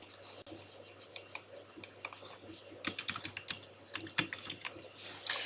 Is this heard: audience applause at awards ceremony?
no